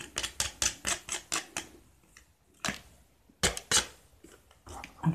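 Big Shot die-cutting machine being cranked as a folder feeds through, a series of sharp mechanical clicks and ratcheting clacks in quick bursts, with a pause midway before more clicks resume, close and fairly quiet.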